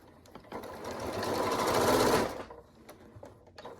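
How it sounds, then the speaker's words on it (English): A sewing machine stitching down a fabric fold runs in one steady whirring burst of about two seconds, rising and then stopping, close and fairly loud with no talk over it. "Put your presser foot back down, sew down to the bottom of the fold."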